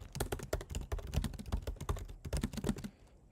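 Rapid, close typing on a computer keyboard while programming in Python at the command line, a steady clatter of keystrokes that stops abruptly near the end, with no talking.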